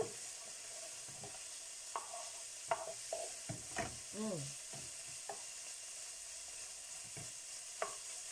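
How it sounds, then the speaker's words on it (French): Brussels sprouts, onions and lardons sizzle steadily in a pan while a utensil stirs them in scattered scraping strokes, close and moderately quiet over the constant frying hiss. "On touille."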